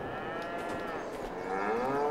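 Cows in the video game Farming Simulator 22 moo in long, overlapping drawn-out calls, several animals at once over steady background noise, close and loud.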